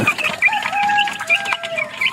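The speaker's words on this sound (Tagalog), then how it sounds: "Lalaking manok." A rooster gives short clucking calls close by, with a few sharper chirping notes in between.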